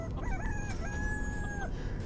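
A rooster crows in Resident Evil Village, a long rising and sustained cock-a-doodle-doo heard clearly over a low rumbling game ambience, with no talk.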